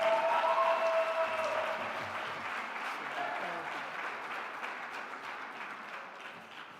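At a presidential inauguration, an audience applauds the new board, clapping loudly at the start and then continuing at a steady, slightly lower level, with faint crowd voices mixed in.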